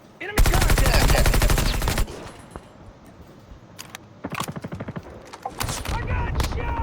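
Automatic gunfire in the Call of Duty Mobile video game, a long loud rapid burst followed by shorter volleys and scattered single shots, with players' voices talking over the game.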